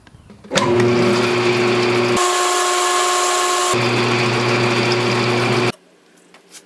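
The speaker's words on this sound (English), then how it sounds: "So that means going to the lathe." A metal lathe motor spins up while facing the end of a metal rod, running steadily with a whining hum, pitch shifting briefly mid-run, then winds down to quiet.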